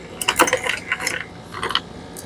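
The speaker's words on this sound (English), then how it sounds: "here we are tightening these 4 bolts" Ratcheting clicks and small metallic rattles come from a wrench tightening headlamp bolts on a 2016 Dodge Journey, quick bursts of close clicking with short gaps between them.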